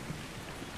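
Steady, even rainfall patters in the ARK: Scorched Earth game world, a soft continuous hiss of drops lasting under a second with no voices.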